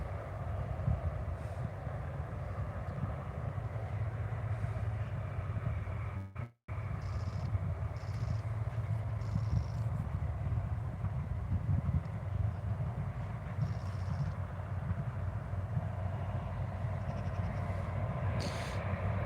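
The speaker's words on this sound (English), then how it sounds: "Some lovely light on this RAF Voyager taxiing out." An RAF Voyager KC2 tanker, an Airbus A330, taxiing out at Newcastle Airport. Its steady low engine rumble and whine carry on without a break, apart from a short dropout, and there is no talk.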